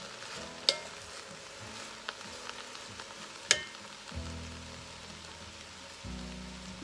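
Apple chunks being stirred into braising red cabbage in a pan, with a steady soft sizzle, a few sharp spoon clicks against the pot and low scraping stirs.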